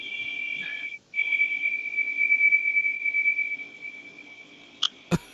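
A steady high-pitched whistle, likely from a household fan, hums continuously at moderate level with a brief dropout near the start, followed by two sharp clicks at the end.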